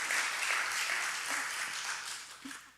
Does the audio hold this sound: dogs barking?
no